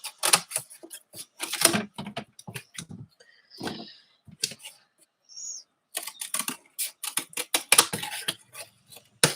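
Scissors cut out a paper section for a craft, with a series of short, close snips and rustles separated by brief pauses and rather faint overall.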